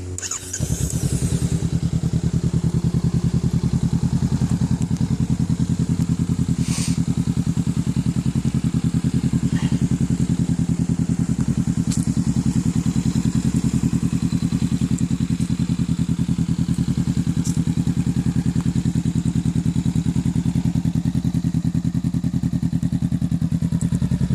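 A Honda Rebel 500 motorcycle engine idles steadily with a low, throbbing thump after starting up, loud and close, with a few faint clatters over the rumble.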